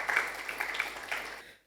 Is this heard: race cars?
no